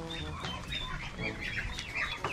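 Peking ducks kept at home calling with dense overlapping clucking, quacking cries close by, continuous over a noisy farmyard background with no talk.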